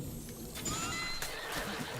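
A horse in the video game Breath of the Wild whinnies in a rising, quavering neigh, fairly faint, over a soft background with a few muffled thumps.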